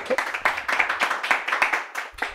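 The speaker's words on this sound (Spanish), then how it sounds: "si quieren aplaudir, pueden aplaudir" A small audience claps for a guest on a talk show, a few close, distinct hand claps in an uneven rhythm over about two seconds, with no talk.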